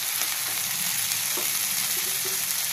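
Bitter gourd fries with spices in a pan and gives a steady, close sizzle that runs unbroken from start to end, with a few faint stirring clicks and no talking.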